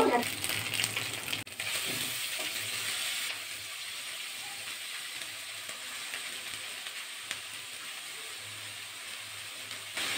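Red amaranth greens and green chili hitting hot oil in a pan, a sharp burst of sizzling that settles into a steady, softer hiss of frying, close and continuous.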